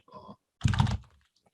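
Two short bursts of typing on a computer keyboard as a web address is entered, a brief patter of keystrokes followed by a louder cluster of clacks, close and quiet, with no one talking.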